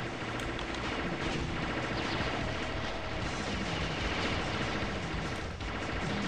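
Rapid, continuous gunfire from a weapon in the top-down shooter game Alien Shooter, a dense unbroken barrage of shots with crashing impacts, loud and close throughout.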